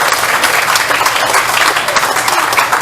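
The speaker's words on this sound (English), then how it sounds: "So give yourselves a huge round of applause." A debate audience gives itself a loud, dense round of applause, close and sustained without a break.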